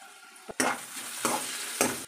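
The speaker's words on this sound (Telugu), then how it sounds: "ఈ ఆయిల్లో ఉడుకుతుంటే ఆ స్మెల్, అల్లము వెల్లుల్లి ఉంటాయి కదా" Crushed ginger and garlic fry in hot oil for a brinjal gravy curry, a steady sizzle broken by three sharp stirring scrapes and bursts of louder hissing, close by with no talk.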